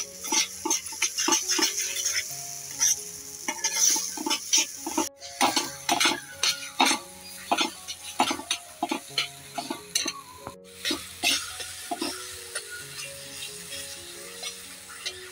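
Thinned besan batter cooking on a tawa, a soft bubbling sizzle broken by frequent spatula stirs and scrapes in an uneven rhythm, close and fairly loud, with no talk.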